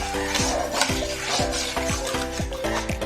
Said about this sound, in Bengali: চিনিটা দেওয়ার পর আবার এভাবে নেড়ে চেড়ে নিতে হবে।